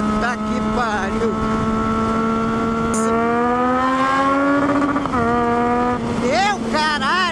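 A Yamaha MT-09 motorcycle rides fast, its engine holding a steady high-pitched whine that climbs through the gears under wind rush. Riders talk and exclaim over it.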